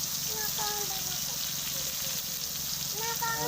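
Chili powder and brinjal pieces frying for a village-style crab curry, a steady soft sizzle running throughout with faint birdsong chirps in the background.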